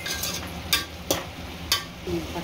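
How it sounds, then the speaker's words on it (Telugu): Yellow round cucumber curry is stirred as it cooks in oil. A spatula makes three or four loud scraping strokes across the pan over a steady, close sizzle. "ఒకసారి కలుపుకుందాం. నూనెలో మంచిగా ఉడకాలి."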